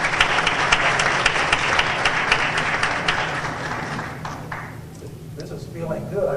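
Audience applause at a talk on defending dollarization in Ecuador: dense, steady clapping from a crowd for several seconds, thinning out toward the end.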